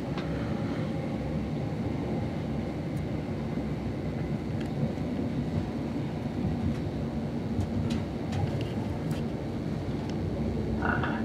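A train pulling into Bridgend station in South Wales, a steady low rumble and rolling rail noise filling the whole stretch, with a few brief squeaks and clicks near the end and no voices.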